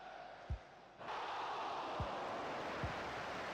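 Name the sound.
stadium crowd noise in Dreamcast football game European Super League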